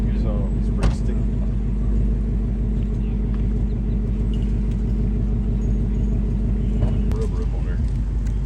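A NASCAR pace car rolling on sticky tires that pick up rubber, heard as a steady, loud low rumble of engine and tire roar from inside the car, continuous throughout, with a brief sharp tick near the start.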